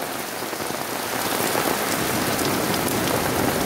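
Dense heavy rain hisses over a village yard, a loud, unbroken wash of drops that swells slightly partway through, with no one speaking.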